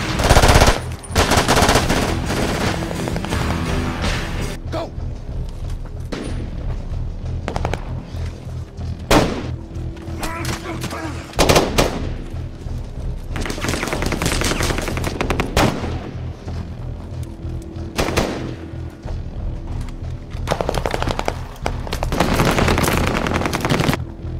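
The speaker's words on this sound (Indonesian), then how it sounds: "langsung melakukan penembakan terhadap kelompok Taliban pimpinan Zayeb ini sebagai aksi balas dendam" Machine gun fire from a war film about French special forces fighting the Taliban: loud, close bursts of rapid automatic shots, repeated again and again over about 25 seconds with short gaps between volleys.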